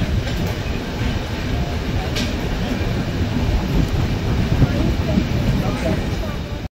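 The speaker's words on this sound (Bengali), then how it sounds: "ট্রেন এখন এসে দাঁড়ালো চন্দ্রকোনা রোড স্টেশনে।" The Rupasi Bangla Express pulls into Chandrakona Road station with a steady, loud rumble of wheels and rail noise and a faint clickety-clack. A few soft metallic squeals rise briefly above the continuous roar, with no clear voices heard.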